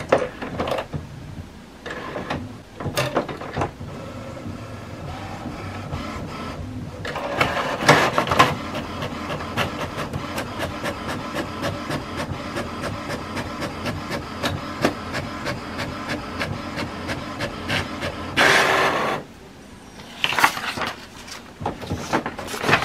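HP Smart Tank 7602 inkjet printer printing a page: rapid mechanical clicks and a rhythmic whirring feed with louder bursts of motor grinding at intervals, close and steady throughout, with no talking.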